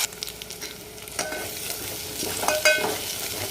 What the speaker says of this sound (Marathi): त्याला फक्त छान असं तेल सेपरेट होईपर्यंत आपल्याला 5 ते 6 मिनिट चांगलं परतून घ्यायचं.